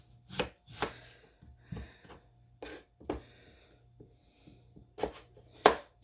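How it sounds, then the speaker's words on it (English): A knife dices one potato, skin left on, into decent-sized chunks on a board. Sharp, irregular chops land one after another close by, with no talking. "So we're dicing up one potato."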